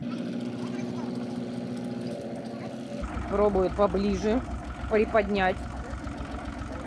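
A tractor's engine drones steadily while its wheels spin, stuck in deep ground, with people talking over it throughout.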